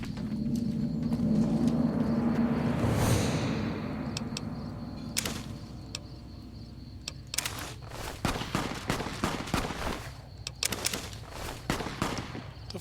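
Fallout: New Vegas gunfire rings out in a fairly quiet desert scene: a loud burst and a rising whoosh come first, then a scatter of sharp individual shots at irregular intervals, some near and some more distant.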